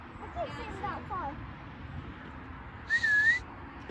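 A person whistling by a river while fishing, a short clear whistled note near the end after a few faint chirping whistles, over quiet outdoor background.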